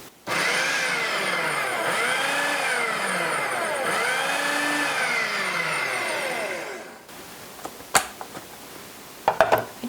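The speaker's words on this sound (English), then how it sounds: "We're going to pulse this until the cranberries are coarsely chopped." A food processor pulses fresh cranberries into a coarse chop, its motor whirring loudly and close in rising and falling surges for about seven seconds before stopping, followed by a few faint clicks and knocks.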